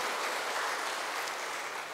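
Applause in a church in Chonburi welcoming a visiting teacher who has stood up: a steady, dense wash of clapping from a congregation, fairly even throughout with no voices over it.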